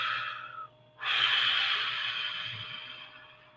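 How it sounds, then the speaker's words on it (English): A person breathing in slowly and deeply, then letting it out in a long, steady, close breath, with a short pause between the two, alone without talk. "Take a deep breath."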